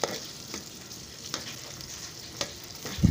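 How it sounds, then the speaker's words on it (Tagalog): Onions fry in a pan while being stirred, giving a continuous close sizzle punctuated by a handful of crisp utensil scrapes and taps, with no talking. "Halo-haloin lang natin hanggang sa maluto ang sibuyas."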